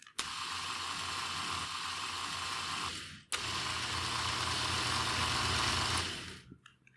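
A Liftmaster garage door opener's motor, gears and belt run with a steady, loud mechanical whir and hum, stopping briefly near the middle, then running again for a few seconds before winding down.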